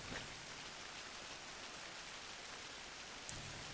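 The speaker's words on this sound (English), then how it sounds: "It's still raining, too." Steady rain falls in the Final Fantasy XI game world, a soft, even hiss of drops at a constant level throughout with no music, plus a brief sharp tick near the end.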